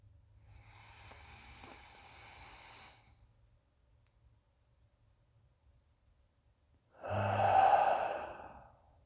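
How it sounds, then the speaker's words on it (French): A slow, deep inhale through the nose during a guided breathing exercise, close and soft, followed after a quiet pause by a longer, breathy exhale. "Fait que tu inspires avec le nez."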